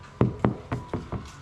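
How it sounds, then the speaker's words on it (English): Five hollow knocks on a water tank in a rural yard in Jamaica, evenly paced and close, each a dull resonant thump with no talking. "So I'm knocking it here."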